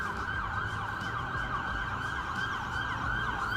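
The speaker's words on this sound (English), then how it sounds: "a lot of police sirens here in New York City" A steady wailing police siren rises and falls continuously over low traffic rumble on a Brooklyn, New York City street near Grand Army Plaza, moderately distant and filling the whole stretch without pause.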